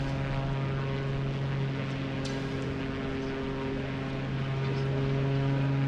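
Steady droning propeller engine of a Pitts biplane cruising in Microsoft Flight Simulator 2020, a continuous loud hum with strong low tones and no change in pitch throughout.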